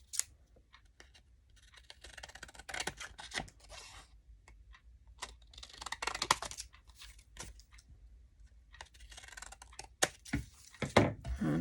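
Scissors cut through paper craft material for tea holders in short snipping bursts, loud and close, with rustling between the cuts and pauses where the paper is handled.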